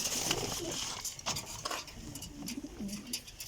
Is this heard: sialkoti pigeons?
yes